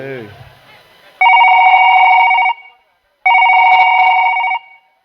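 Two long, loud electronic telephone rings sound for an incoming call, separated by a short silence, following a brief bit of speech at the start.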